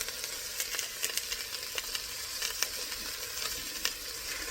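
Steaks sear in a hot pan with a steady, close sizzle, broken by small pops and spatters.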